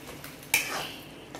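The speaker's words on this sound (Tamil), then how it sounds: "அடுப்பை ஆஃப் பண்ணிவிட்டு இதை நல்லா மிக்ஸ் பண்ணி விட்டுக்கோங்க" Paneer subzi with kasuri methi being mixed in a pan with a spoon, a single sharp metallic scrape and clink followed by a brief soft shuffle, short and close.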